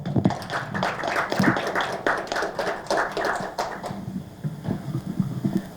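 Forum audience clapping to welcome the next speaker, a modest scattering of hands with uneven rhythm that thins out, then picks up briefly near the end.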